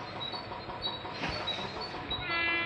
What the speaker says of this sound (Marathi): गाडी आली मित्रांनो.